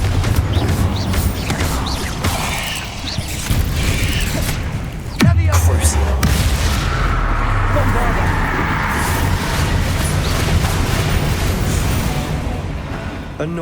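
Confringo fire spells bursting in Hogwarts Legacy, with a sharp loud impact around the middle followed by a rumbling low boom, amid continuous combat clatter and game sound at steady loudness.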